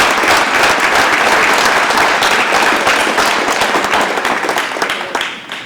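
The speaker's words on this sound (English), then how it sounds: "can we get one more final round of applause for all of our amazing athletes?" Sustained applause from an audience at a school district board of education meeting, honoring student athletes; steady, dense clapping throughout that thins slightly toward the end.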